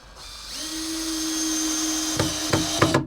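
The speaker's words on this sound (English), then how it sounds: "now we screw in 5 screws" A power drill whirs steadily, driving screws through the tabs of a bracket on a raised garden bed, then ends in a few short bursts near the close, loud and close with no talking.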